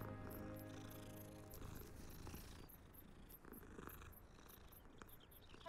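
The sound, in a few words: cat purring in video game Hogwarts Legacy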